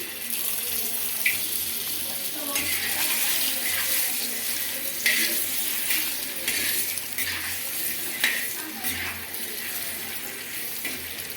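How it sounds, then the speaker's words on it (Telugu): Eggs with turmeric fry in a pan, giving a steady, bright sizzling hiss with small surges throughout, close by and without talk. "పసుపు వేసుకున్నాక ఇంకా ఎగ్స్ అయితే వేసుకుంటున్నా బాగా ఫ్రై చేసుకోవాలండి"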